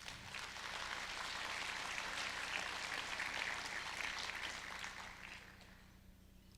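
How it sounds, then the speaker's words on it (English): Audience applause at the 2015 Temecula State of the City Address, a steady broadband clatter of many hands that holds evenly for about six seconds before fading out abruptly, with no talk over it. "If we could give them a round of applause, that'd be great."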